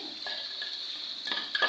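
Chicken frying for biryani is stirred as ginger garlic paste goes in, a faint, steady high-pitched sizzle with a few soft utensil scrapes and clinks toward the end.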